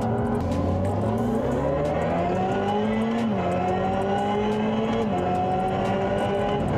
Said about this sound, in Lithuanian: Jisai net susitampo, perjungiant pavaras imituojant